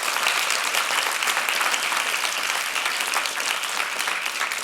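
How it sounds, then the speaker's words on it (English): An audience at an education talks event applauds the speakers, producing dense, sustained clapping from a full room that stays loud and even throughout, with no talking. "I think we should give them another round of applause."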